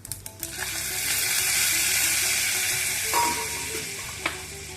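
A sharp, loud sizzle erupts as hot cumin tempering is poured into rasam, hissing steadily for a few seconds with faint clinks before tapering off.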